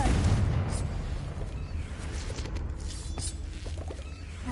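A Confringo fire-blast spell in Hogwarts Legacy on PS5: a heavy explosive boom opens with a dense low rumble, then settles into a sustained crackling, roaring burst of debris and scattered pops.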